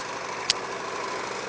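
A 6.5 horsepower engine powering a 2500 watt inverter generator drones at a steady, even pitch up close, and one brief sharp click cuts through near the start.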